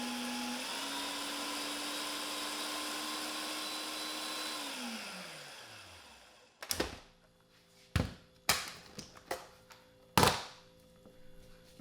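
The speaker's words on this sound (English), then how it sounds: "I like to put them in my blender." A kitchen blender chopping food scraps for compost whirs steadily, its pitch sliding down as it winds to a stop, followed by several sharp knocks and thuds.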